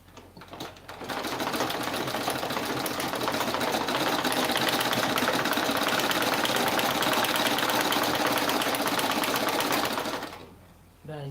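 A sewing machine stitching fabric for a baby turban cap runs in one loud, fast, continuous whir for about nine seconds, then stops, with a voice heard briefly before it starts and after it ends.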